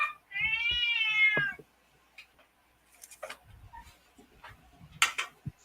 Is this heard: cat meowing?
yes